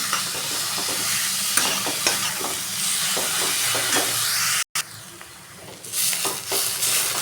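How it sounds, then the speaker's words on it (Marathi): Grated bottle gourd roasting in ghee for doodhi halwa, a loud, steady close-up sizzle broken by repeated scraping stirs, with a brief cut partway through before the frying hiss resumes. "उलट्यानंतर साह्याने चांगलं आपल्याला तुपात भाजून घ्यायचं आहे."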